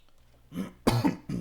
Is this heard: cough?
yes